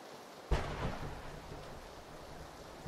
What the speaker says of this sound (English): That lightning legit scared me.